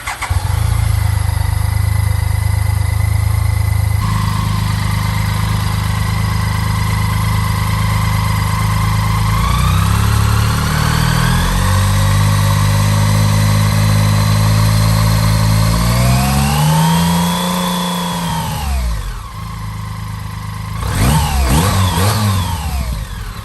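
A BMW K75 motorcycle engine, a model out of production since 1996, idles steadily, then revs up through rising and falling sweeps, close and loud, with a final burst of quick throttle blips and no talk.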